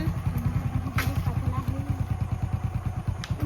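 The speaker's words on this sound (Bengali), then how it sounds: "এই হেড লাইট নেই বাইকে সায়ন।" A motorcycle rides at night without a headlight, its engine close and loud with a steady, rapid thumping pulse that runs throughout, with faint voices in the background.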